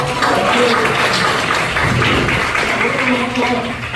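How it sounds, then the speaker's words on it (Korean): A dense, steady wash of clapping fills a room at a church youth retreat Q&A, loud and continuous, with voices mixed into the crowd noise. "일단 우리에게 박수"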